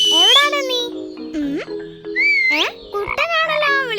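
A cartoon frog croaks in a Malayalam children's animated story, giving a run of bright, swooping, voice-like croaks that rise and fall in quick succession, loud and close, with short gaps between calls.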